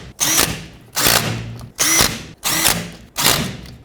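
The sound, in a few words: power tool snugging axle cover bolts on a Chevy Silverado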